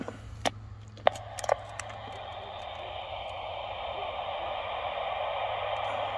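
Steady hiss of static from a budget HF ham radio receiver, broadband and continuous, with a few brief clicks and taps near the start and a low hum underneath.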